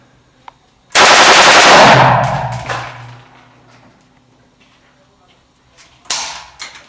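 AK-47 rifle fired outdoors at an old military base: a loud, close burst of automatic fire lasting about two seconds, then a ringing decay, with a second shorter shot near the end.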